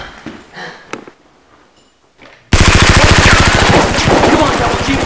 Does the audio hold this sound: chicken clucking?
no